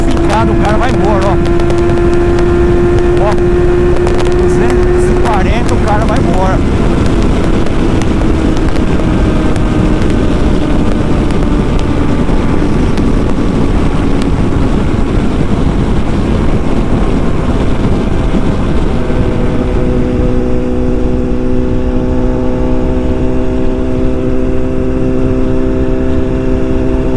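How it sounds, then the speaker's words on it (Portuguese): A Suzuki Hayabusa motorcycle accelerates hard on the road, its engine whine rising and then dropping through gear changes under heavy wind rush, with a rider talking over it. "Hayabusa quando acelera, ó"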